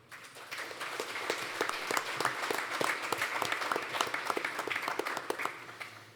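Sustained audience applause at a Los Angeles tech gathering on Silicon Beach, a dense steady patter of many hands clapping close and loud for the full stretch without letting up.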